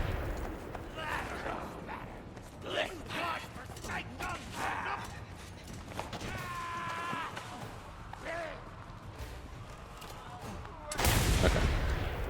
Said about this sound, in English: That was my last bullet.